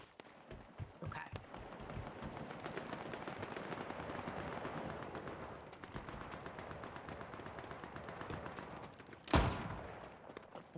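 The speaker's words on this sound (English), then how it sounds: "I can see gunfire from this door." Gunfire in a Rocket League-style video game crackles as a steady rattling stream under game noise, with one sharper, louder burst near the end.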